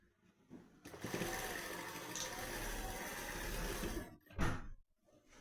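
A sewing machine runs steadily for several seconds while stitching the shoulder seam of a blouse, a close mechanical whir, followed by a brief separate clunk near the end; no speech.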